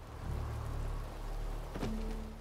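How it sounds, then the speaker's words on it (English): Rain effects in the video game Batman: Return to Arkham, Arkham Asylum, a soft, faint, continuous patter under low ambient hum, with a brief brighter burst near the end. "I do like the rain effects."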